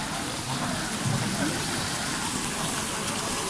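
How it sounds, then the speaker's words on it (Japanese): Steady rain falls on an outdoor summer bon-odori festival in Akita, a constant broadband hiss of drops on tarps and ground, with faint voices mixed in beneath. "雨は全然止まないけど"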